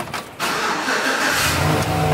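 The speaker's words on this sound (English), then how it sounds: "Let's see if the truck will start." A truck engine cranks briefly and then catches, settling into a steady running idle, close and fairly loud, with no voices.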